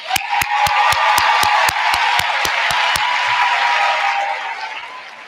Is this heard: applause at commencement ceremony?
yes